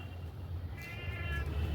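A short, thin bleat from a young goat, fairly close, over a low background hum.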